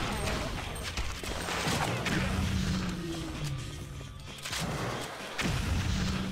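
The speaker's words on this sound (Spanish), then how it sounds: "Con los disparos estos de los lanzagranadas." Grenade launcher fire in the zombie shooting game Zombie Shooter 2 pounds out in a dense, continuous barrage of booming blasts and crashes, loud and unbroken across several seconds.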